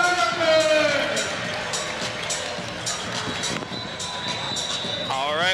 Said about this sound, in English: Give them a big cheer for trying!